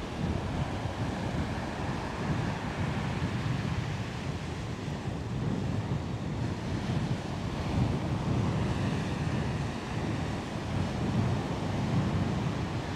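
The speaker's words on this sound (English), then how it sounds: "Isn't the sound of the ocean relaxing?" Ocean surf rolls steadily onto the beach at Coney Island, New York, at sunset, a continuous broadband wash of waves mixed with gusty wind buffeting the microphone, with no voices heard.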